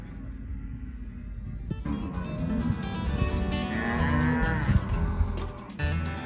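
Cattle moo on a working farm, a long, loud, drawn-out low call rising and falling over several seconds with a second bellow starting near the end, heard alone without talk.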